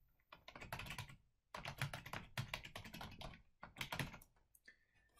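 Typing on a computer keyboard, a close, quick run of clattering keystrokes in several bursts separated by brief pauses, with no talking.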